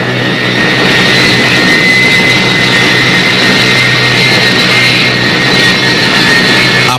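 Small Goblin parasite jet aircraft released from a B-29 mother ship, flying with a loud, continuous engine roar and a steady drone that stays even throughout.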